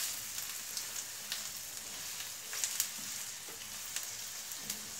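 Garlic sizzles in a pan with cabbage, a steady soft crackle of frying with occasional scrapes and clicks as it is stirred, close and moderately quiet.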